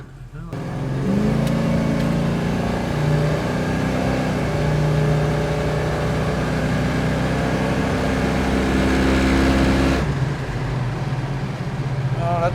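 A 1971 Chevrolet Chevelle SS pulls away and accelerates, its engine note climbing in a loud, steady drone heard from inside the car for about nine seconds before easing off, with a voice faintly beneath.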